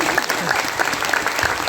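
A seated audience at a religious gathering in an ashram claps loudly and continuously, a dense, steady wash of applause.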